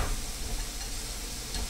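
Shrimp stir frying with tomatoes in a pan, sizzling loud and steady up close without pause.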